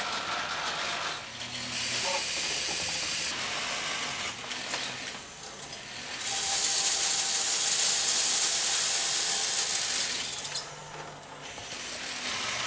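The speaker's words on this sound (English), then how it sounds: "The cams work in forward and reverse whenever the sequencer motor runs" An animatronic fortune teller's cam mechanism runs forward and reverse on its sequencer motor, giving a steady mechanical hiss and ratcheting clatter with a louder, brighter whirring stretch in the middle, no voices.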